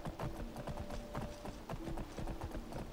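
Horse hooves clop steadily in the video game Skyrim, a quick repeated rhythm of hoofbeats under a low musical drone, with no talk.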